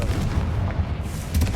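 A Confringo fire spell blast in the Hogwarts Legacy video game, a loud, dense booming burst filling the short moment with crackling impact noise, no talk.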